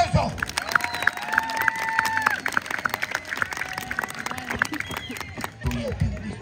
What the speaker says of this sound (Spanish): ¡Regálale el aplauso!